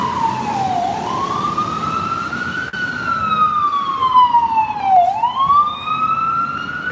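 Emergency vehicle sirens wail outdoors, a loud, continuous rising-and-falling tone sweeping through two full cycles over the background rumble of traffic.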